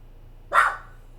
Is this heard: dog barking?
yes